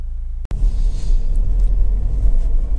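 A 2014 Honda CR-V 2.2 i-DTEC EX 4x4 diesel engine idling, a loud, steady low rumble after a brief click, continuing evenly with no talk.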